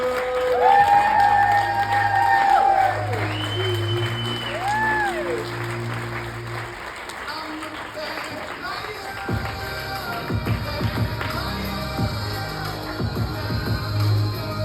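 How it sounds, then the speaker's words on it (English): Applause and cheering from an audience at a speaking event, spreading through a crowd for several seconds, with a presenter's voice and music-like tones over it, fading into scattered noise toward the end. "Ladies and gentlemen, stand up. Round of applause"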